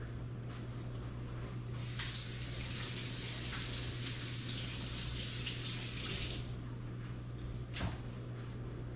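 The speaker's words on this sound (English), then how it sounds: "And then you just wash your hands." A tap runs steadily while hands are washed beneath it in a home kitchen, a soft continuous water rush with a louder spray burst in the middle and a brief knock near the end.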